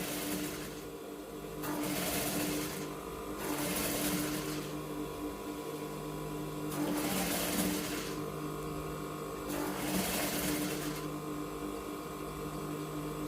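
A sewing machine stitches fabric for a butterfly boubou, with several bursts of steady mechanical whirring of a few seconds each, separated by short pauses, running over a constant low hum, close and moderately loud.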